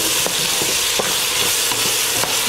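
Tomato paste sizzling in a hot pan as a spoon pushes it around, a loud dense hiss with a few soft scraping strokes, close up and without speech.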